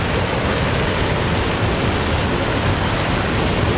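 Water splashing steadily in a memorial fountain pool in Washington DC, a loud, continuous rushing wash that fills the whole stretch with no pauses.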